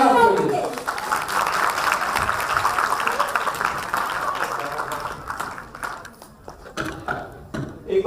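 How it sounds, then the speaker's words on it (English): Applause from an audience at a school's annual day event, a broad steady wash of clapping that carries on for several seconds, with some voices mixed in, before thinning out toward the end. "we would like to end this with a big round of applause for the best place to learn English"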